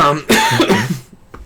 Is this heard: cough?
yes